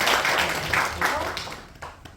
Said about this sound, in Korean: 동의하시고 박수 박수.